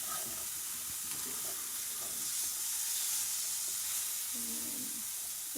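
Burger patties frying on a hot cooking surface with a steady, close hiss of sizzling fat throughout, some light clinks and scraping of a utensil, and no talking.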